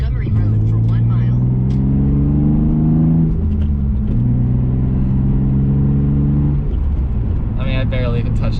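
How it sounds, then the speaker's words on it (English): A car engine revs and climbs through the gears while driving, with repeated rising pitch sweeps between shifts. The engine is loud and close, as heard from inside the car, and a voice speaks briefly at the end. "This car just, it makes all the right noises at all the right times"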